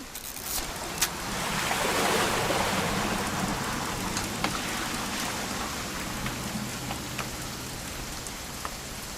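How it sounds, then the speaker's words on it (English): Steady rain falls in the video game What Remains of Edith Finch, a continuous broadband hiss with scattered closer drops and taps and a low rumble beneath, fairly even throughout with no talking. "It's gonna rain the whole weekend, isn't it?"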